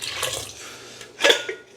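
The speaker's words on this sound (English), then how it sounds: "I'm going to top up our rice with this water here." Water pours from a container into a pot of rice with beans and aromatics for Jamaican-style coconut rice, a close, steady splashing that swells near the end, heard alone.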